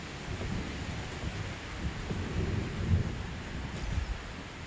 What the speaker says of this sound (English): Oh, okay, that's thunder.